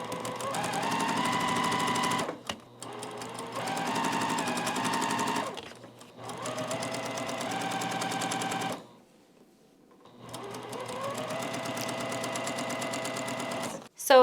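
A sewing machine chain-pieces fabric units in long continuous runs of rapid stitching, pausing briefly between passes and once for a longer quiet gap, loud and close with no talking.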